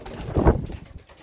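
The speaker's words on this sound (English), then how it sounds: "they ended up giving me almost a few too many pigeons" A young racing pigeon gives a brief soft coo, a single low throaty call close by, with faint rustling around it and no voices.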